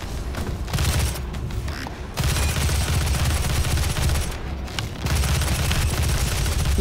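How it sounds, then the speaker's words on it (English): Continuous weapon fire in DOOM 2016 while fighting a demon, a dense, loud barrage of shots that runs almost unbroken, pausing briefly twice before resuming. "I'm shooting you in your head."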